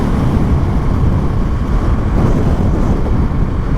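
Dense, loud wind rush blasts steadily against the microphone while riding a 2024 Yamaha MT-07 motorcycle, a continuous broadband roar with no talk over it.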